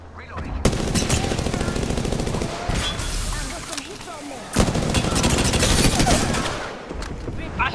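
Sustained automatic gunfire in Apex Legends, rapid dense bursts nearly continuous for several seconds with a sharper blast midway, loud and close, with game noise and some voices mixed in.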